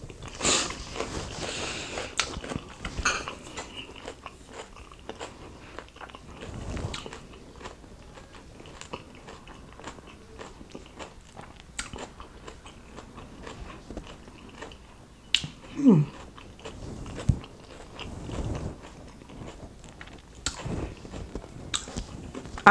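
A crunchy Aldi plant-based meatless taco salad being bitten and chewed close up, with crisp crunches and wet chewing in irregular bursts, quiet and without talk.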